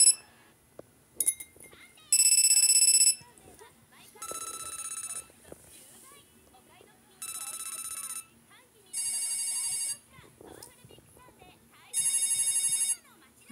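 A telephone rings with a shrill electronic ringtone in five evenly spaced bursts of about a second each. Short gaps of quiet separate the bursts, and faint indoor sounds fill the pauses.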